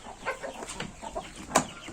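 Chickens and young chicks on a farm clucking and peeping in a scattered, irregular run of calls, one louder squawk standing out near the end, with no talk.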